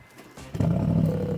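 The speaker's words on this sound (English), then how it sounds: "Let's have a listen to it, start it up" A Brabus G700, a tuned Mercedes G63, cranks and fires, its engine catching with a sudden loud bassy roar that settles into a deep rumbling idle, close by.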